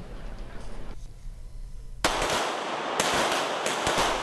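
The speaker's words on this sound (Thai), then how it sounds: "ยิงปืน" Two sharp, loud bangs about a second apart, each ringing into a noisy tail, after a stretch of faint background noise.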